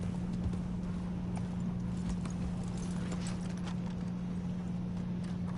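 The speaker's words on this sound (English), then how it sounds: "Oh, that's a nice horse." Horse hooves clip-clopping steadily in Red Dead Redemption 2, a continuous even rhythm of hoof falls over a constant game hum and ambient background.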